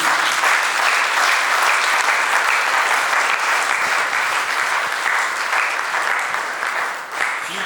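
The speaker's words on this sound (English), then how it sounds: "let us rise on our feet, please, as we give a round of applause to Dr. Ufuoma Festus, Omo-Obi." A standing audience gives sustained, dense applause at a farewell send-off ceremony for an outgoing country director, steady clapping filling the room with little else audible.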